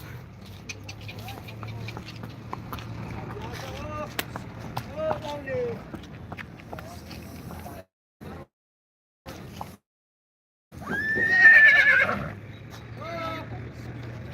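At a horse market in Yeola, a horse whinnies loudly near the end after people talking, with brief silent gaps in between.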